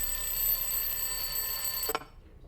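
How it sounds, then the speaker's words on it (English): A 4 a.m. alarm clock buzzing steadily and loudly up close, then cutting off abruptly near the end and leaving quiet. "It was pitch black when my alarm buzzed at 4 a.m."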